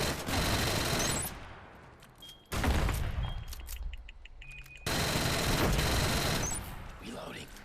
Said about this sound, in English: the Assault's new weapon is a sidearm, and it's the LS-12 SMG